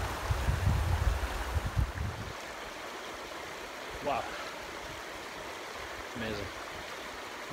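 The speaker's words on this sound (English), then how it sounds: "having that sound of running water, nothing else" Running water of a mountain stream on Lochnagar, a steady close rushing wash, louder and rumbling at the start, then even; brief faint voices in the background.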